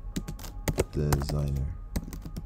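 Rapid clicking of computer keyboard keys in steady bursts, close and clear, with someone speaking intermittently over the typing.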